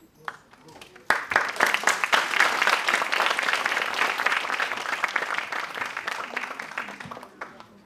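Audience applause at a Bharatanatyam arangetram, starting with a few scattered claps, swelling into sustained full clapping, then tapering off toward the end.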